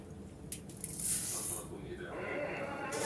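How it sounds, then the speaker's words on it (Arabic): Vermicelli frying in a pan for rice, with a steady sizzle and crackle under a sharp hiss, close and moderately loud. "نحمر الشعريه"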